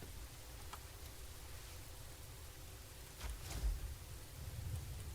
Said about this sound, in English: It does get cloudy, it gets foggy, it gets, as you can see, rainy.